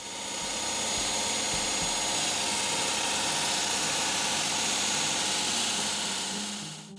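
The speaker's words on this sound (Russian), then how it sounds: "для меня звук стенорезной машины, когда я захожу на объект," A wall saw machine cuts a 5 cm edge off a concrete slab, making a loud, steady mechanical drone and whine that holds continuously throughout with no talk.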